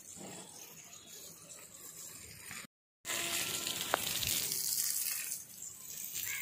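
Water is poured onto plants in a soft splashing stream, quiet and close, with a brief silent gap partway through and then a fuller gushing pour.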